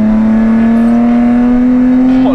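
An Alfa Romeo 147 GTA engine runs with its exhaust valves open inside an enclosed space, giving a loud, steady, droning exhaust note with a slight rise in pitch.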